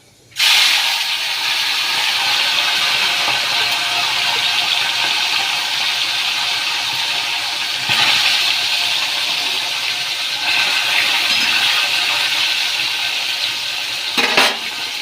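Mola fish drop into hot oil in a heated wok, setting off a sudden loud, continuous sizzle that holds steady and close for the whole stretch, with a few brief utensil knocks near the end.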